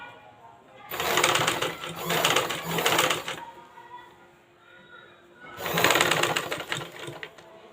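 A sewing machine stitches a collar-neck blouse in two loud, close bursts of rapid whirring, separated by a quieter pause in which faint background tones remain.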